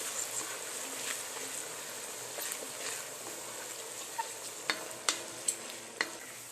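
Fish pickle masala with curry leaves being sautéed in a pan, a steady soft sizzle and scrape of stirring, with a few sharper clinks of the spoon toward the end.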